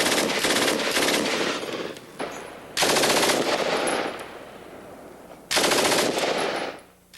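Stoner light machine gun fired without its cradle and tripod, three loud bursts of rapid automatic fire separated by short pauses, each burst trailing into echo.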